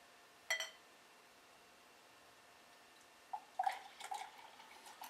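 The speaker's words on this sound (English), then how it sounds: "Let's pour the beer in the glass." Beer from a bottle is poured into a glass: a brief splash near the start, then after a quiet gap a short run of gurgling, dripping pours, fairly faint and close, with no one talking.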